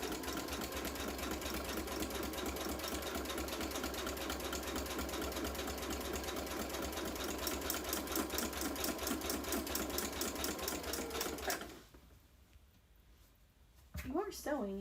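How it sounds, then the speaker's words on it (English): A home sewing machine in a basement sewing area runs in a fast, steady mechanical stitching rhythm, close and continuous for about twelve seconds, then stops abruptly, leaving near silence before a brief burst of sound at the end. "You are sewing, yeah?"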